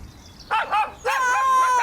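A dog in a 3D animated Islamic cartoon series barks twice in quick succession, then lets out a longer, wavering whine-like yelp, fairly loud and close with no talking.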